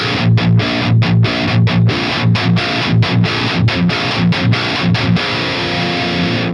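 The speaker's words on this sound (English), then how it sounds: "So this is some kind of tube screamer effect, like pushing the highs into the distortion, tightening the lows, and just making things sound more metal" Electric guitar driven through a Fortin Killer Kali preamp with the boost pushing the distortion, playing tight, chugging metal riffs with short rhythmic palm-muted stops, loud and close with no talking.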